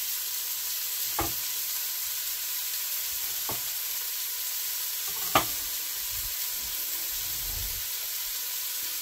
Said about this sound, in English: I am going to go ahead and add in my onion